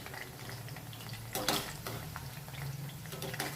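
A spice mixture with chilli powder is stirred in a cooking pan for bhindi kadhi, with a soft continuous scraping and a couple of sharper clinks over a low steady hum, fairly faint and close.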